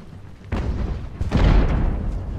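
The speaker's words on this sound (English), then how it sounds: "So I've selected their cannon for counter battery fire." Cannons fire counter-battery shots in the naval-era battle game Ultimate Admiral: Age of Sail, two deep booming reports rolling out in quick succession at moderate distance, the second heavier and longer.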